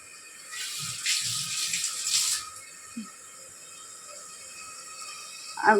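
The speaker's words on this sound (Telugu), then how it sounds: "కొంచెం వాటర్లో కడిగేసి" Running water splashes steadily from a tap, with brief swells as something is rinsed under the stream, plus a few soft low knocks.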